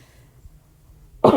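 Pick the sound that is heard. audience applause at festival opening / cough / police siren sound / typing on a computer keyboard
cough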